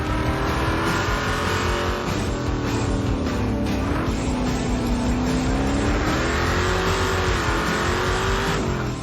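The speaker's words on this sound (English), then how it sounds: "I was driving the car as hard as I could drive it." A '32 Ford race car is driven hard up Pikes Peak, its engine roaring loud and close with rising and falling revs as it slides through turns, continuous for several seconds.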